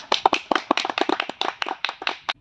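A quiz-show contestant is applauded after winning 50,000 taka: a brisk run of close, sharp hand claps, about twenty in two and a half seconds, loud and alone with no talk over them.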